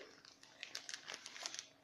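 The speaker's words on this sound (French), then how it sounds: "pendant que ma petite sœur ouvre justement la gruyère, moi j'ouvre la mozzarella" A plastic mozzarella packet is opened during home pizza-making, giving a quiet run of sharp, irregular crinkles and rustles close by.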